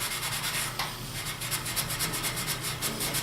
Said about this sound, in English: Just kind of scrub both sides.